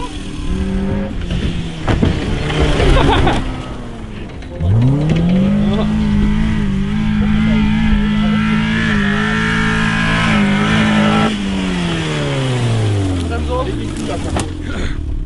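A Daewoo Matiz small car under a stress test, its engine revving up and holding a strained steady drone while driving, then winding down, with voices talking over the start.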